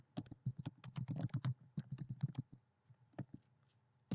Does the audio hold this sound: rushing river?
no